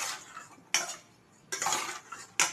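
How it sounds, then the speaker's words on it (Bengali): A metal spatula scrapes and clacks against a pan while mixing fish, heard close up as three sharp strokes, each followed by a short scraping tail. "মাছটা কিন্তু আমি হাত দিয়ে মাখাবো না, খুন্তি দিয়েই মাখিয়ে নেবো।"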